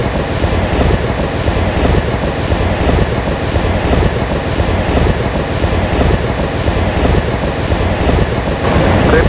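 Pacific Ocean surf rolls continuously onto a beach, a loud broadband wash of breaking waves mixed with heavy wind buffeting the microphone, with no voices present.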